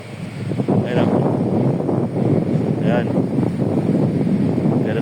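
Wind buffets the microphone in a steady rush at a construction site, with a few faint brief tonal sounds rising above it and no clear talking.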